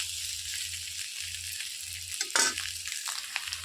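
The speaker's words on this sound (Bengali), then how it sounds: "আলুটা আমার একটু ভাজি হয়ে গেলে তারপর এটার মধ্যে আমি এই যে মশলাটা অ্যাড করে দেবো" Potatoes fry in a pan with a steady, close sizzle, broken by a few brief clinks and scrapes near the middle of the clip.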